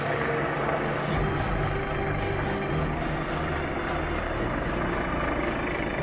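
A huge white helicopter hovers nearly stationary overhead, its steady rotor thump and engine roar loud and continuous throughout.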